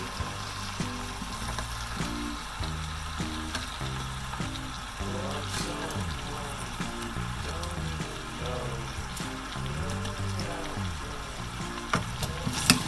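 Sliced onions frying and being stirred in a pan over medium heat, a steady close sizzle with occasional scrapes, running under background music throughout.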